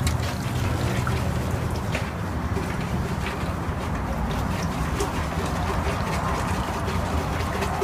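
An inlet strainer from a Graco Reactor E-XP2i is rinsed in a bucket of All Solve solvent, giving a steady close trickling and sloshing of liquid throughout.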